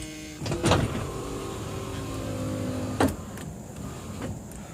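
Power windows of a 1978 Mercury Marquis Brougham two-door coupe whirring upward from inside the car, a steady motor hum lasting a few seconds, with a sharp clunk as each window seats at the top.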